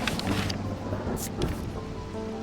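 Thunderstorm in the video game Strange Antiquities: steady rain hiss under a low rumble of thunder, with a few brighter crackles, moderately quiet and without talk.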